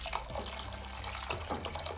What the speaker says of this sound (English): Get hot water, add while you're stirring.